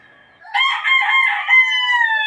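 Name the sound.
rooster crowing, gamefowl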